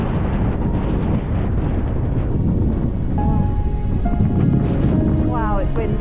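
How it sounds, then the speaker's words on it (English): Strong wind roars on a Lake District hilltop, buffeting the microphone in heavy gusts, with a voice faintly audible under the rush near the end. "Wow, it's windy on here."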